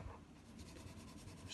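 A pencil colours in a drawing on paper with steady rapid back-and-forth scratching strokes, close and soft, continuous throughout.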